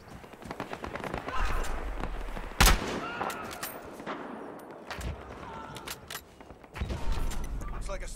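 Sniper rifle shots ring out in Battlefield Hardline, a police-and-criminals shooter game, with one sharp loud crack standing out among scattered lighter gunshots and mechanical clatter, and voices talking over the action.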